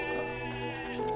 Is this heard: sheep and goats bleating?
yes